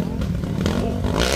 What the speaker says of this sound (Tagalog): Nagluluko na nga yung motor niya oh!